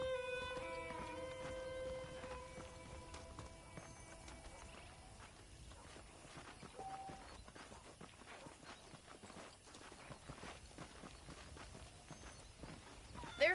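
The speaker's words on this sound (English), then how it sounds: "The horses are saddled up over here." Horse hooves in Red Dead Redemption 2 clip-clop with a quiet, irregular rhythm against faint ambient game sound, with a soft whinny or tonal cue near the start.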